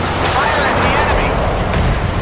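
Naval guns fire at an enemy ship in the warship battle game Force of Warships, a dense, continuous roar of booming shots and blasts that fills the whole moment, loud and close.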